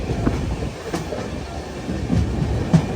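A train rolling slowly toward a station on the Chennai to Trichy line, heard from inside a first class AC coach: continuous low rumble with irregular wheel clacks, fairly loud and without talk.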